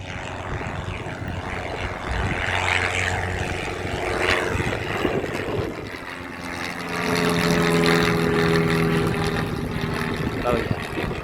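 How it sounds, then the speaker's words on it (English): A propeller aircraft takes off at a busy airport in a gusty crosswind, its engine drone steady and rising in the distance, with people talking nearby and wind noise throughout. "some sort of aircraft taking off"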